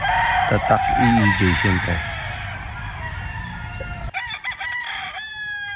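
A young Golden Boy gamefowl stag, a P-comb street breed, crows loudly and close by on a farm, with a second crow near the end. Someone talks over and between the crows.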